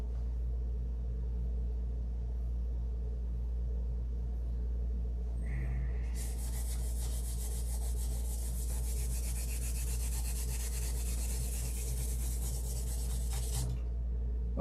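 Hand sanding with 1,000 grit sandpaper, a steady close rubbing scratch that starts partway in and continues evenly for several seconds before stopping, with no talking.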